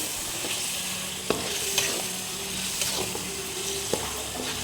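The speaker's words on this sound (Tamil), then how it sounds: "நல்லா மிக்ஸ் பண்ணிக்கலாம்" Chicken gravy masala is stirred in a pan, a steady loud sizzle broken by periodic scraping strokes of the spoon, with no talk.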